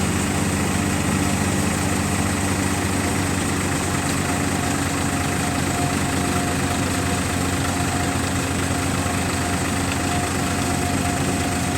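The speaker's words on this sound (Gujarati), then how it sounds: "રજનીભાઈના ટ્રેક્ટરનું પરફોર્મન્સ હવે આપણે ચેક કરીએ" A tractor engine held at about 1200 rpm drives a thresher, a loud, steady, unbroken mechanical drone with constant rumble and whine throughout, no voices.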